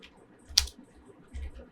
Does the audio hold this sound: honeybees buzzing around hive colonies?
no